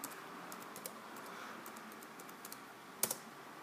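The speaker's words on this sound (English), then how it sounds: "So you just type in your password." A password is typed on a computer keyboard in a quiet room while restoring a Windows Vista machine: a light run of soft, close key taps that ends in a sharper double clack.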